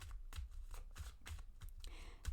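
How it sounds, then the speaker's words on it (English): A deck of tarot cards is shuffled by hand at close range, with a series of soft papery riffles and taps in an uneven rhythm, quiet and with no voices. "I'm going to shuffle the deck again"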